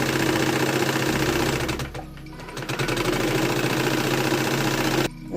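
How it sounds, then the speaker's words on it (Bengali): A foot-pedal treadle sewing machine fitted with an added electric motor runs fast and steady, a loud continuous mechanical whir with rapid rhythmic clatter, briefly slowing near the middle before resuming at full speed and stopping abruptly at the end. "এই যে পায়ে চাপ দিচ্ছি আর এখানে কিন্তু মেশিন চলছে"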